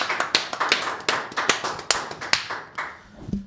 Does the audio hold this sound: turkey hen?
no